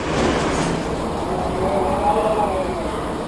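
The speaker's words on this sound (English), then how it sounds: "The only operating train has a single destination. It zooms right past the forgotten Concourse A." An airport people mover train at a terminal concourse rushes past in a steady, loud rumbling whoosh with a faint rising whine, continuous throughout.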